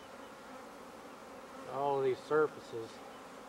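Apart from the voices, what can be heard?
swarm of honey bees buzzing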